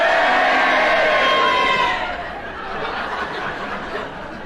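A studio audience reacts loudly with a mix of cheering and booing, a dense crowd roar that swells for about two seconds and then settles into a lower, sustained murmur.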